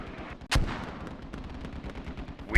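.50 cal machine gun fire in a military video game, a steady stream of rapid bursts over a dense background of battle noise, with a sharp louder shot standing out near the start.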